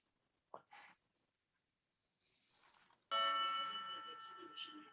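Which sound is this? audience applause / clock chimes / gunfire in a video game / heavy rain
clock chimes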